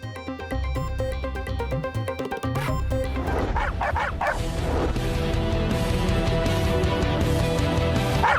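Stray dogs barking and yelping in a residential street, a burst of sharp barks and whimpers that rises suddenly partway through, mixed under loud dramatic music.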